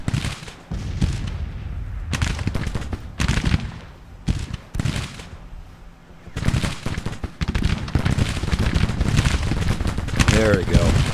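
Musket volleys from Civil War infantry battles in the strategy game Grand Tactician: The Civil War, dense crackling bursts of gunfire rolling on throughout under ongoing conversation.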